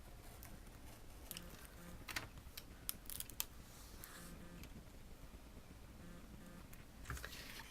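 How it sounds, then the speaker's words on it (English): Small scissors snip through a rub-on transfer sheet in a quiet room, a few faint, crisp cuts and light paper rustles scattered across the clip, close to the microphone. "I'm just going to cut that leaf off."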